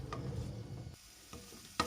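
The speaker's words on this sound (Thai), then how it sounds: "เอาพริกแกงลงไป ใส่ในหม้อนะจ๊ะ พัดให้เขาหอมจ้ะ" Market-bought Thai curry paste with lemongrass is stirred in a pot, giving a soft sizzle and scraping strokes with a few sharp clinks of the utensil, fairly quiet and close, with no talking.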